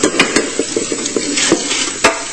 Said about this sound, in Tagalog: Deep fry ko na yung talong ha.